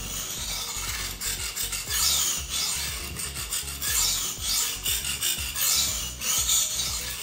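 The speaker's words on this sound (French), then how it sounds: "je reprends donc l'aiguisage tout à fait normalement" A knife is drawn over a knife sharpener in a steady series of rasping, scraping strokes. The strokes repeat rhythmically and close up, with no voices.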